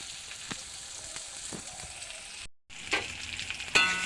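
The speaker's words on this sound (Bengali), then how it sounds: "মাছ ভাজার তেলে এই জন্য পেঁয়াজগুলো দিয়ে দিয়েছি, পেঁয়াজগুলো লাল লাল করে ভাজবো।" Onions frying in oil left over from frying fish give a low, steady sizzle with a few soft stirring scrapes. There is a brief silent gap partway through, and a sharper crackle follows it.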